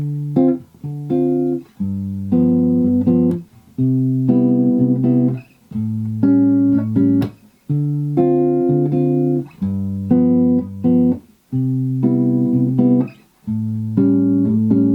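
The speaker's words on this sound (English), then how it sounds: "This is often played on a nylon strung guitar" Nylon-string guitar plays a gentle bossa nova rhythm, plucked chords in a lilting syncopated pattern with short gaps, alone and close.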